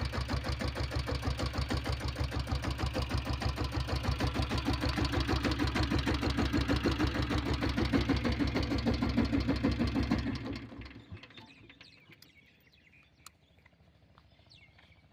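A Royal Enfield diesel Bullet motorcycle engine idles after a kick start with a loud, steady, rapid thumping beat close by, then shuts off and falls to near silence with a few faint ticks.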